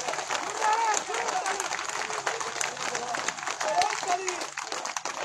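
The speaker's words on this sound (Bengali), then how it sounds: "এটা তালি দেন জোরে করে" A village crowd claps in scattered bursts at a speech, with voices talking loudly over and between the applause.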